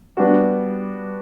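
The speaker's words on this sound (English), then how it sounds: "If we made it a major seventh, which we often find on a chord 1, it would sound like this" A sustained piano chord, a major seventh, struck once at a jazz standard lesson and left ringing alone, its tones decaying slowly and evenly.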